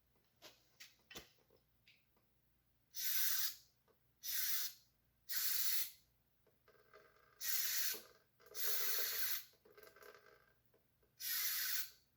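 Loud aerosol brake cleaner spray hissing in repeated bursts of one to two seconds, close by, separated by quiet gaps with small clicks and handling noises, while working on a Honda GL1100 motorcycle.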